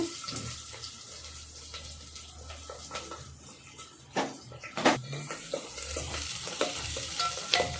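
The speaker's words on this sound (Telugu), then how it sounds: "ఎర్రగడ్డ కరివేపాకు పచ్చిమిర్చి వేస్తున్నానండి." Onion, curry leaves and green chillies frying in oil in a pan, heard as a soft steady sizzle with scattered clinks and stirring scrapes of a utensil against the pan.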